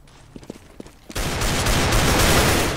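Desert Eagle pistol shots in a CS:GO match: a few sharp, punchy reports early on, then a loud, sustained burst of rapid gunfire from several weapons that fills the rest of the moment, with no voices.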